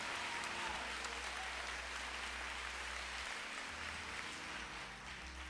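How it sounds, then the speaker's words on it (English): Dense, steady applause from a large church congregation, many hands clapping continuously without pause, fairly distant and even throughout. "Put your hands together and give God a good hand clap."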